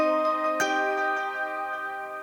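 A piano note rings out through a ducked Valhalla dual delay in a drum and bass / IDM track. A sharp attack near the start repeats as fading echoes, and sustained tones hang in the air and slowly decay.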